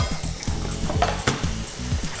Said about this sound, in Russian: Сковорода хорошо разогрелась. И мы закладываем туда лук.